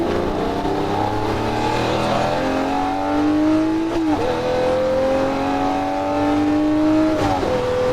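A Lamborghini Murcielago LP640 roars at full throttle on the Las Vegas Speedway, its engine pitch climbing steadily through the gears with brief dips at each upshift, loud and continuous throughout.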